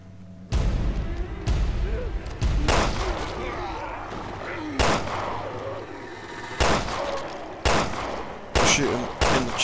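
Gunfire aimed at an enemy in Resident Evil Revelations 2 comes as about eight loud, sharp shots spaced a second or two apart, with game ambience between them.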